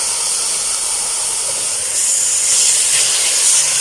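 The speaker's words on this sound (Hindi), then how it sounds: "अभी चिकन डाल देते हैं।" Boneless chicken pieces dropped into a hot pot of vegetable soup with carrots and capsicum, giving a loud, steady steamy hiss and sizzle that swells slightly partway through, with no talking.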